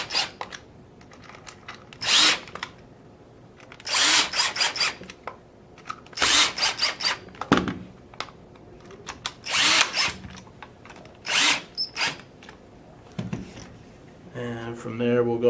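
Power driver tightening screws back into a Tippmann Gryphon paintball marker, several short whirring bursts with pauses between them and brief handling noises, close and fairly loud.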